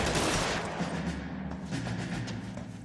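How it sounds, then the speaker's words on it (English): Dense gunfire erupts in the LA Noire video game, a loud burst of overlapping shots at the start that thins into a rattling, continuous volley. "I don't even know where those gunshots are coming from"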